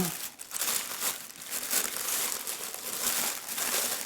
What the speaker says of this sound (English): I'm trying to pull off the back label, and it might be more successful.